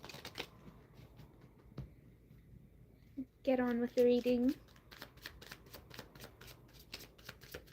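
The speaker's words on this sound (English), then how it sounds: "Let me shuffle these cards." Tarot cards being shuffled, a short burst of riffling about a second long in the middle, with quiet talk before and after it.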